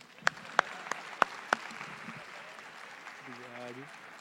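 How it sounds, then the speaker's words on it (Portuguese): A handful of sharp, separate hand claps ring out from an audience at a talk, spaced unevenly over a quiet room. A voice follows at the end. "A salva de palmas, gente."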